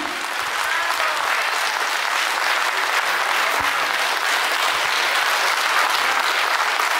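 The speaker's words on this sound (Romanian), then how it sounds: "Aplauze, aplauze!" Loud, sustained audience applause after a live performance, a thick, even wash of many hands clapping that carries steadily to the end with no talk over it.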